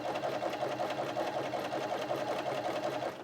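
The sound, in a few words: Bernina sewing machine stitching a buttonhole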